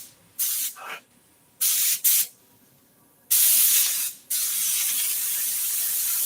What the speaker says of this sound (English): You don't want glue all over this material, so you got to be real careful in spraying it.